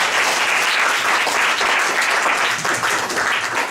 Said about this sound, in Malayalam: കൈയടിച്ച് കർത്താവ് നന്ദി പറയാം.